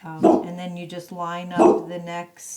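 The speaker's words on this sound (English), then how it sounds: "that's my dog" A pet dog barks a few times in a room where paper crafts are being made with a border punch, the barks close and loud, overlapping a person talking.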